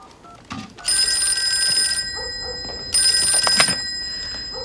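A telephone bell rings in two loud, shrill bursts with a pause between them, while faint voices and room sounds sit underneath.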